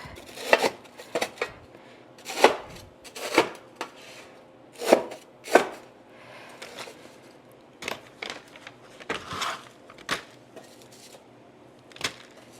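Bench scraper chopping through frozen sausage, kale and potato soup, with a dozen or so sharp, uneven cuts and cracks close by, some in quick pairs, separated by short quiet gaps.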